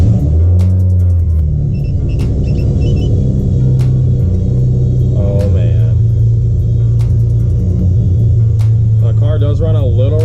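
A G35 with a rear-mount turbo setup idles roughly on a cold start, a steady close engine rumble with uneven pulses, while a person talks over it and a few clicks sound.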